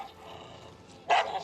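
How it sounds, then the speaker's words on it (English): A dog gives a single sharp, fairly close bark near the end, after a stretch of quiet low background noise. "The dog started barking"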